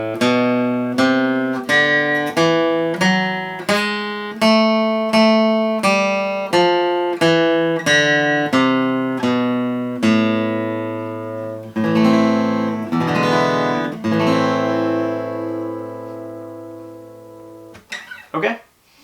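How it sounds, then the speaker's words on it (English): An A melodic minor scale picked on guitar, about a dozen evenly spaced single notes ringing close and clear, followed by a few longer sustained notes with no talking. "That is a melodic minor scale, and it sounds different. It sounds like this."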